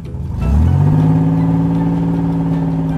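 A toy truck's motor revs up sharply, then settles into a loud, steady whine as it drives off, close by, with no voices.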